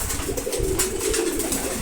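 Male pigeons in a loft, among them silver, Giribaz, racer and red checker birds, coo in a dense, continuous low murmur while feeding, close and fairly loud, with no talking.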